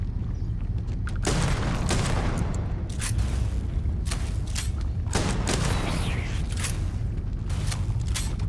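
Shotgun fire in Starfield: a series of heavy, booming blasts roughly every second or two over a dense, loud background of game noise and mechanical clatter.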